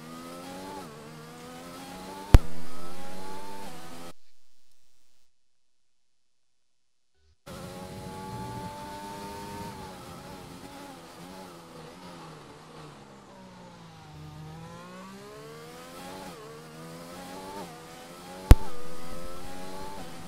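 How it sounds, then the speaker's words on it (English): Formula 1 cars heading out on track in an Xbox racing game at the Chinese Grand Prix, a steady high engine whine that rises and falls in pitch as the cars run. There is a short silent gap and two sharp clicks. "we see the first couple of cars go out on track"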